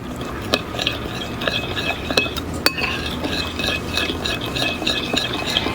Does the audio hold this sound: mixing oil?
yes